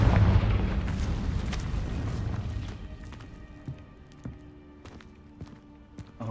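A Confringo fire spell blasts in the video game Hogwarts Legacy, a loud rumbling explosion that decays over a few seconds, followed by several sharper, fainter impacts and crackles.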